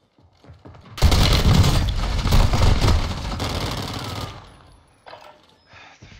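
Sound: gunfire in a shooter video game

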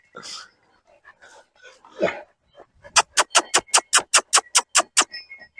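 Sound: dog

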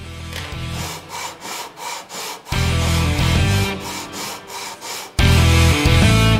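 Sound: sanding a guitar fretboard radius

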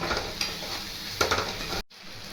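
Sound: stirring and sautéing masala in oil for paneer kofta

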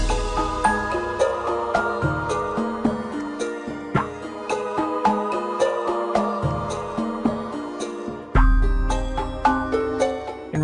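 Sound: Rayman video game Hall of Doors music, enhanced version

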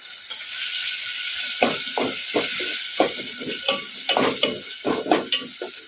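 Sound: tomatoes frying and being stirred in a pan

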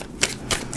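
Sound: shuffling a deck of tarot cards

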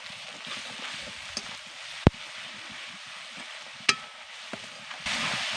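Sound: stirring spices into frying garlic in a pan

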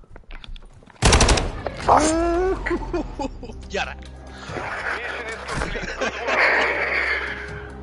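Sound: gunfire in a video game

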